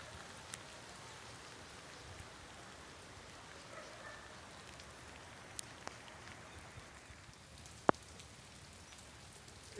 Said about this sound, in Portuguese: A chuva está aumentando.